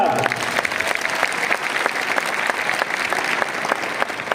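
A seminar audience on parenting and education claps loudly together, a dense, sustained burst of applause from a large crowd with no voices standing out.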